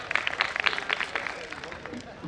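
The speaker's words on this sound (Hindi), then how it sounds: "इसके लिए भी ताली बजनी चाहिए।" Audience applause at a Hindi poetry recital (kavi sammelan) in Petlawad: a quiet patter of many hands clapping, denser at first and thinning out over a couple of seconds, with no talking over it.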